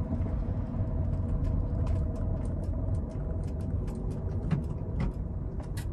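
Honda Civic driving over a small pothole with a rattling noise from one side: steady road and engine rumble inside the cabin, with scattered light clicks and rattles throughout.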